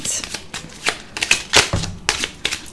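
Tarot cards being shuffled by hand, a quick series of papery riffles and flicks in uneven bursts, close and clear with no voice over them.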